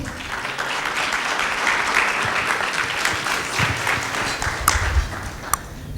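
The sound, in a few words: loud applause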